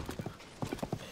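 A horse trotting in The Legend of Zelda: Tears of the Kingdom, quick rhythmic clip-clop hoofbeats in two close pairs of groups, near and clear with no talking.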